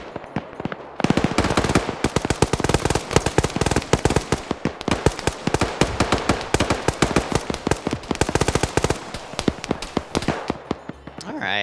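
Rapid, sustained automatic gunfire in a video game set in Afghanistan rattles almost nonstop for around ten seconds, loud and dense, with shooting bursts overlapping.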